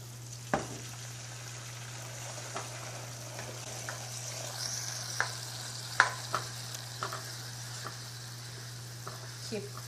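Fish sauce being stirred in a sizzling pan for Lao chicken feet salad: a steady frying hiss with scattered light utensil clicks and scrapes, over a constant low hum.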